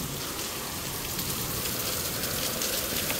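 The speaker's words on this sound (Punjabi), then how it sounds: "ਮੀਂਹ ਰਾਤ ਦਾ ਇਹ ਪੈ ਰਿਹਾ ਜੀ" Heavy rain falls through the night on a flooded courtyard, making a dense, steady roar of drops spattering on surfaces throughout, with no talking.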